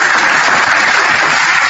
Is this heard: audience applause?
yes